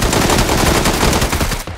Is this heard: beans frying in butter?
no